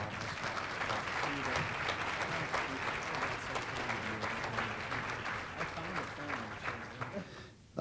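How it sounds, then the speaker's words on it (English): Sustained applause from an audience at an awards celebration, dense and even, with some voices mixed in, fading toward the end before a sudden loud noise. "Let's give David a round of applause"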